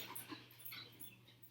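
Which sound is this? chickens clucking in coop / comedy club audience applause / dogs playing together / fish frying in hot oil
dogs playing together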